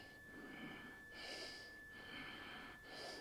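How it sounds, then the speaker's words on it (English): Slow, deep breaths while holding a yoga goddess pose, with faint airy inhales and exhales in a steady rhythm of roughly one cycle per second, close to the microphone, with a faint steady tone underneath. "Deep breathing."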